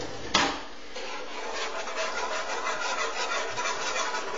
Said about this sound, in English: So then I'm gonna take a whisk.